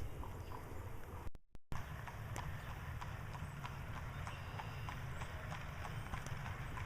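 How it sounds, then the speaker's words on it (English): Amish horse-drawn carriage passing on the road, a steady clip-clop of hooves running through the whole stretch at a moderate distance over a constant background rumble, with a brief dropout partway through. "There comes another Amish carriage."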